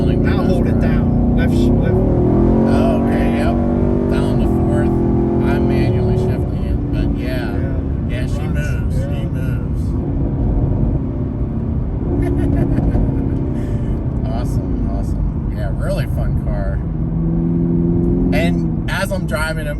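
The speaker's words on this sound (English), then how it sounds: "I love the exhaust though. I keep saying it, but I think it's really, really nice sounding." A 2022 Chevrolet Camaro SS 1LE with an automatic transmission rumbles loudly and steadily from the exhaust while driven, its pitch stepping with manual downshifts, under near-continuous talk from the driver.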